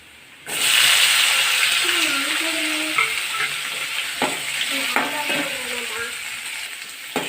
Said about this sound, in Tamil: வெங்காயம் பச்சை வாசனை போகிற வரைக்கும் வதக்கிடலாம்.